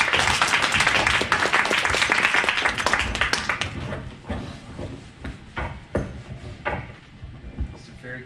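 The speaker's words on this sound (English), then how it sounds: "Everybody give a round of applause for Brad Beckman." An audience at a music teachers' conference presentation breaks into loud, dense applause that thins over several seconds into scattered claps and a few knocks.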